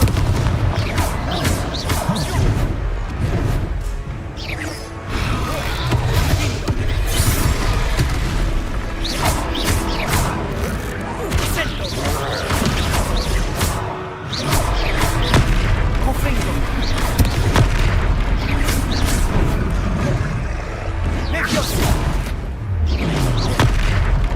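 Fire spell explosions and combat booms from the Hogwarts Legacy video game, a dense, loud run of blasts and crashes over continuous game music, with voices speaking at times.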